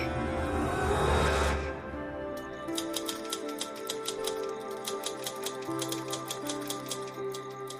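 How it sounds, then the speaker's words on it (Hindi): Rapid mechanical typewriter keystrokes clatter in an uneven but steady rhythm, close and crisp, following a brief wash of noise at the start. "टाइपराइटर की बटन दबने की आवाज सुनाई दे रही थी"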